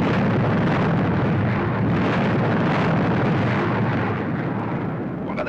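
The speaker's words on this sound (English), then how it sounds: "Detonating charges" Explosive charges detonate in a deep pit, producing a loud, sustained roaring rumble that barely fades over several seconds.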